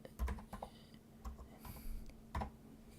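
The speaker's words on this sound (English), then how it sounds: "I can type some more Chinese" Chinese characters being entered on a computer keyboard through a Windows input method, heard as close, distinct keystrokes arriving in short irregular bursts with pauses between them, with no talking.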